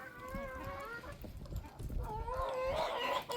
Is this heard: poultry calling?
yes